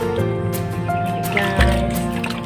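Running water splashing over a large papaya being washed, a continuous trickle with small knocks and handling noises and a brief louder splash partway through.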